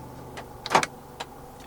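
Central locking actuators firing on a 2023 Isuzu D-Max V-Cross 3.0 4x4 double cab, heard from inside the cabin as a sharp mechanical clunk followed by a lighter click a moment later, over a quiet background hum.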